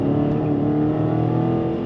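A 2015 Dodge Challenger R/T Scat Pack's engine drones loud and steady from close by, a dense continuous rumble with no voices over it.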